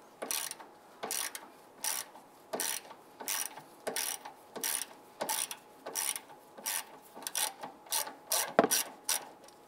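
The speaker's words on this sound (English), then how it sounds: "Using your 5/16 socket and ratchet, go ahead, loosen and remove those." A 5/16 socket and ratchet loosening antenna base bolts on a 2002-2008 Dodge Ram 1500, giving steady bursts of close ratchet clicking, repeated about twenty times in an even rhythm with no talk.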